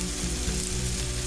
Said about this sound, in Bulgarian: Идеята на това запечатване на тигана е да се получи тази хубава коричка